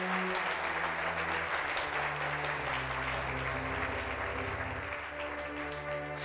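A church congregation applauds during a Friday evening sermon, a dense, sustained wash of clapping filling the room with sustained tonal music underneath.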